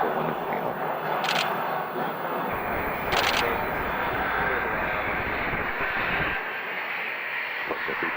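A Phenom business jet on final approach to runway 21, its steady broadband engine roar filling the scene at a moderate distance, with a brief radio-like chirp or two over the continuous drone.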